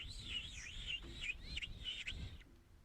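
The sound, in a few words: person imitating a bird call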